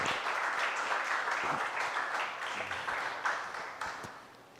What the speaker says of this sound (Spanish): Dégale un aplauso al Señor, por favor.